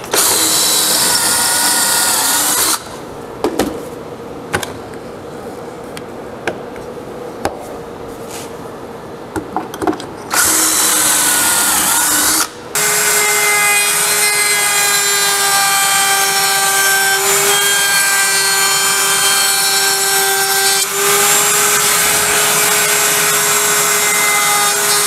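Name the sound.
drilling pocket holes and routing a round-over edge in wood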